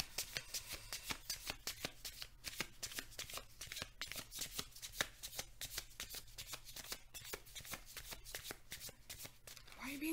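Tarot cards are shuffled in rapid, continuous riffling bursts, close and fairly quiet, with no talking.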